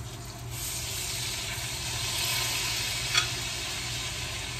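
Sausages sizzle steadily in a hot pan with sliced peppers, onions and fennel seed, a dense broadband frying hiss held at close range throughout, with a brief bright crackle near the end.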